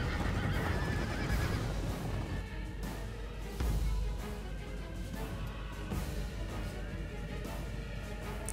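Cavalry horses whinny and neigh repeatedly over a dense, continuous battle din as mounted troops charge in Medieval 2 Total War, with hoofbeats and clashing noise filling the background.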